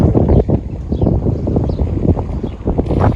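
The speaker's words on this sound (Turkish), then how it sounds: "Ama bayağı bir rüzgarlı" Strong coastal wind on the Black Sea shore at Kilyos, Istanbul, buffets the microphone in continuous gusty rumbles, loud and close, with no voices.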